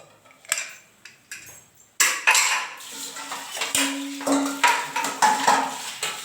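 Dishes, pots and pans are washed by hand in a home kitchen. A few sparse clinks come first, then a busy run of close metallic clattering and scraping of cutlery and cookware.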